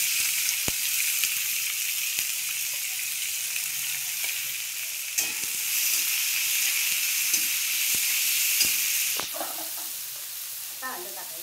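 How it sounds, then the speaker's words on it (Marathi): Chopped onion sizzles steadily in hot oil in a pan, a loud continuous frying hiss with occasional stirring clicks and scrapes, no talking over it. "कांदा टाकूया."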